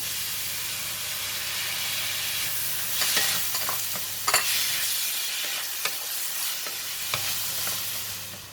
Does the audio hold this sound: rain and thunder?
no